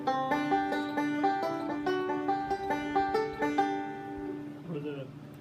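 Banjo picking a steady forward roll, a rapid even stream of bright plucked notes ringing over a repeating pattern, close and clear, ending with a brief softer flourish.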